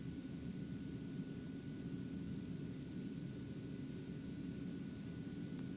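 A small jet's engine in a flight simulator game drones as a steady, low, continuous rumble with a faint high whine, unbroken for the whole stretch.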